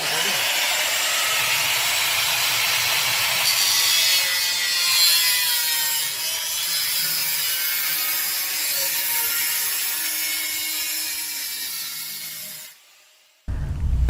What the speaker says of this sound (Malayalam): കുടം ഇലക്ട്രിക് കട്ടർ ഉപയോഗിച്ച് മുറിച്ചുമാറ്റി നായയെ രക്ഷപ്പെടുത്തിയത്.